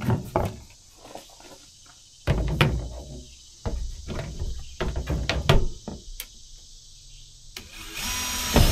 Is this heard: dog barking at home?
no